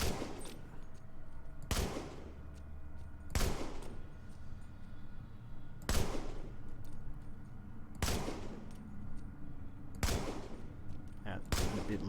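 Gunfire from an M60 light machine gun in the video game The Division comes as spaced single loud reports or very short bursts, about every one to two seconds, over a low steady background.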